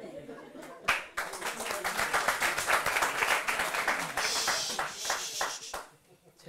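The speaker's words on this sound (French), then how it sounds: "ils t'applaudiront dès qu'ils ont envie de t'entendre." An audience at a stand-up comedy show claps energetically, a loud close round of applause with distinct individual claps that fades near the end.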